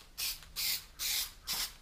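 Four short hissing bursts from a spray can, evenly spaced and quiet, each lasting about a quarter second with brief gaps between.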